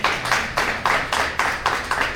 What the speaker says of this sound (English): So let's once again give her a big round of applause